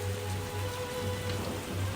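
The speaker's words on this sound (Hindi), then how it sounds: "बारिश जोरों से हो रही थी।" Steady heavy rain pours on a surface at close range, a dense continuous hiss with no voices.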